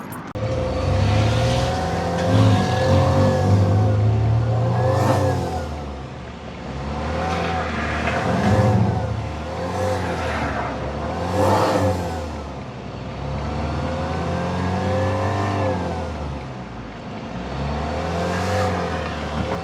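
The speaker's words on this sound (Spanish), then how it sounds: "Estamos tratando de vuelta de acelerar así sin andar." A troubled car's engine revs repeatedly while parked and not moving, loud and close, the throttle rising and falling in surges with brief voices in between.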